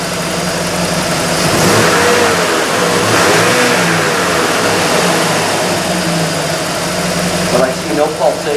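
A Chevrolet Camaro IROC-Z barn find's engine runs steadily as it warms up, a continuous close mechanical hum and rumble with slight surges, while the owner checks coolant pressure and someone talks over it.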